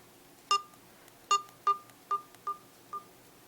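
Short beeping notification tones from a Medion LifeTab P7332 tablet, six separate chimes spaced irregularly over a few seconds, clear and close against a quiet background.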